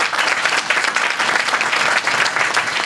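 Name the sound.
applause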